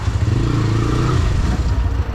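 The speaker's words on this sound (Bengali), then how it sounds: "আমি সহজে ঢাকা শহরে ট্রলার চালাই" A trawler vehicle's engine drives along a Dhaka street, a loud close rumbling drone with a steady clattering putter that holds throughout, no talk heard.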